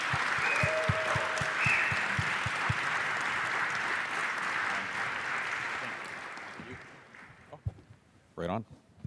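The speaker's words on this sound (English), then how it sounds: "let's give a massive round of applause to these legends" Audience applause for speakers at a Bitcoin conference, a broad crowd clapping steadily for several seconds before fading out, with a brief voice near the end.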